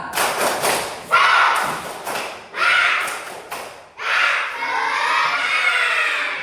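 A school class performs a rhythmic spirited clapping cheer, bursts of sharp unison claps in patterned groups separated by brief pauses, ending in a longer stretch of clapping mixed with shouting voices.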